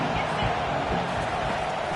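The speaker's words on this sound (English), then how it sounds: "This crowd bringing the energy and noise early." Football stadium crowd in a college football video game, a dense, constant roar of cheering and noise filling the whole stretch.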